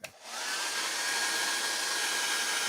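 A hair dryer blows steadily on a drying painting at an art camp, switching on with a brief click and then holding a loud, even rushing whoosh close up with no talk.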